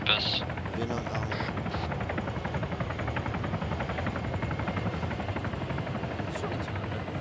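A Venom military helicopter passes overhead at an airsoft or military simulation event, its steady rotor thudding loud and continuous throughout, with voices talking over it.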